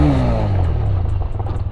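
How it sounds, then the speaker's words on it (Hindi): A TVS Raider 125 motorcycle's engine drops in pitch as it brakes hard on a rough road, close and loud, with clattering from the bike over the bumpy surface. "यहाँ तो हालांकि थोड़ा सा ख़राब रास्ता है, यहाँ पर ब्रेक टेस्ट करके देखते हैं।"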